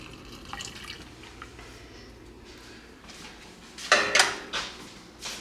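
Boiled potatoes for mashed potatoes drained in a kitchen, with soft trickling water and drips over a low background, followed by a brief clattering burst of a pot and dishes near the end; no one talks.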